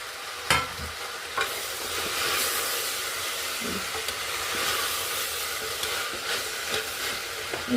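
Tomatoes are stirred into a hot pan in a home kitchen, a steady sizzle and hiss with a few sharp clatters of the spoon against the pan.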